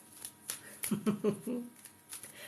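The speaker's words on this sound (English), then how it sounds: "let's shuffle these animal cards" A deck of animal cards is shuffled by hand in short papery riffles and flicks, a few quick bursts spread over a couple of seconds, close and fairly quiet with faint voice underneath.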